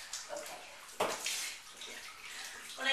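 Tap water runs steadily into a tub or sink while a large cat is washed, a continuous close splashing hiss with small surges, no talking.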